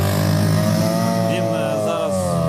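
Racing powerboat fitted with a new outboard motor, heard as a loud, sustained engine whine with rising and falling pitch as it revs, steady and close throughout, with a voice talking over it.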